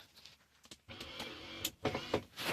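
Short whirring of a 1976 Lincoln Continental power window motor running in bursts, close by, with a few clicks and clunks in between.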